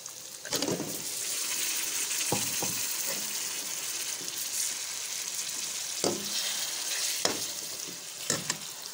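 Chicken pieces drop into spices frying in a pot for chicken kadhi, setting off a steady broadband sizzle with scraping stirs and a few sharp clanks of the spoon against the pot.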